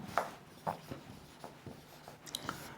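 A marker or chalk scratches out a rule on a board in a few short, soft strokes with quiet pauses between them, close and faint in an otherwise quiet room.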